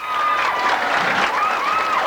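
A large crowd in Clane applauds and cheers as the team comes in for the trophy after a minor football final, dense steady clapping filling the space while a voice speaks over it.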